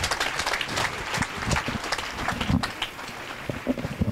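A church congregation at an evangelical Sunday service claps loudly for the Holy Spirit, with uneven, sharp individual claps forming lively applause throughout.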